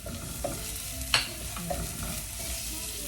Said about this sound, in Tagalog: Ngayon, ilalagay na natin yung ating sibuyas.